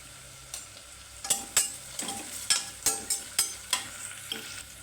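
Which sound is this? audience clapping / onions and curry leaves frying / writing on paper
onions and curry leaves frying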